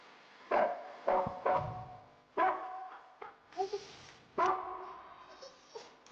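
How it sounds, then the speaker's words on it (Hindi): A frightened dog in a Malayalam action film scene whimpers and yips in short, close, repeated bursts, about eight cries spaced unevenly over several seconds, with no talk over them. "कुत्ता भी डर रहा है।"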